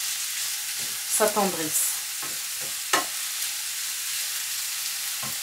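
Bell pepper sautéing in a pan over medium heat, a soft steady sizzle with a few short stirring scrapes, while someone speaks briefly in French.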